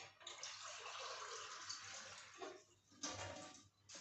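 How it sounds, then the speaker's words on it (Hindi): A cup of water being poured into a pan of milk and semolina, a soft splashing pour running for a few seconds with brief pauses and faint kitchen noise, no talking. "तो ये 1 कप पानी गया।"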